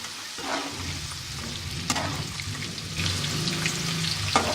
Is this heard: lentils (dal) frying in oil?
yes